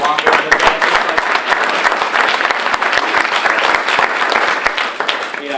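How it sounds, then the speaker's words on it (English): Audience applause at the JoomlaDay Florida 2018 closing keynote, a dense, steady wash of many hands clapping that fills the whole stretch at close, even loudness, with a crowd voice or two mixed in. "Let's give Adam a round of applause."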